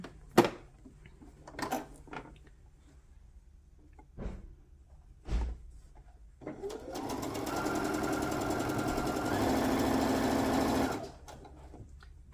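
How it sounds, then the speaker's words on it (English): A sewing machine stitches a quarter-inch seam on Santa stocking fabric cut with an AccuQuilt GO! die: a few scattered knocks and clicks first, then a steady, close whirring run of about four seconds that stops abruptly. "we're just going to sew 1/4 inch right on the inside here to get everything to lay nice and neat"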